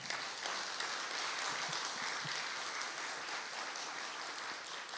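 A church congregation breaks into sustained applause, a dense even wash of clapping that carries on steadily for several seconds at moderate distance, with no voices heard over it.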